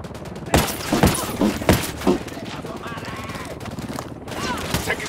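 A handful of loud, close gunshots ring out in a firefight in Ghost Recon Wildlands, spaced irregularly, followed by quieter ambient noise and radio-style squad voices talking.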